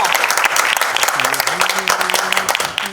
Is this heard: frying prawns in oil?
no